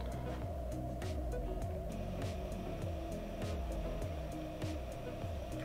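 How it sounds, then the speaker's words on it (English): A Prusa Mini+ 3D printer running its hot end and heat bed heater self-test gives a steady mechanical hum with softly repeating sweeping tones. The sound stays close and even throughout. "now it's checking the hot end heater and the heat bed itself."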